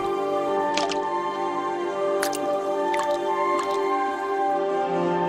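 Water droplets fall and splash in a series of small irregular drips, a few sharp plinks over a constant ringing hum, close and fairly clear.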